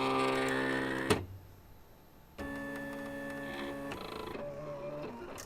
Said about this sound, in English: And my machine is cutting.